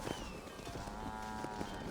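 Cattle in the video game Red Dead Redemption 2: a single drawn-out cow moo, fairly faint and somewhat distant, with quiet ambient game sound underneath.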